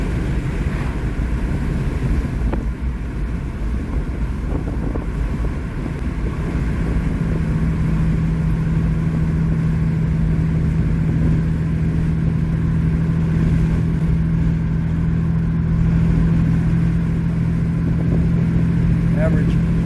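A 2007 Dodge Nitro, freshly fitted with a replacement engine, cruising on the road at 65 mph, giving a steady drone of engine and road noise with a low tonal hum throughout and someone talking over it.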